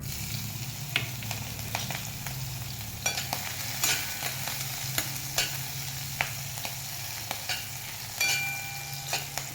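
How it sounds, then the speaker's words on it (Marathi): Steady sizzling of green chilies frying in a hot kadhai, with occasional stirring scrapes and crackles, close and continuous, no talking. "मिरची चांगली परतून घ्यायची आपण इथं बघा मिरची पण चांगली परतली"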